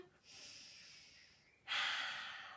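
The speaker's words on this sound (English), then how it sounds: "3 belly breaths here. Breathe in deep." Deep belly breathing in a Pilates downward dog: one long soft inhale followed by a stronger, louder breath, close and airy with no talk.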